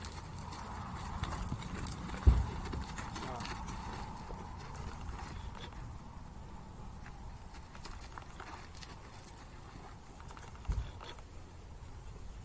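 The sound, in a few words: horse hooves clip-clopping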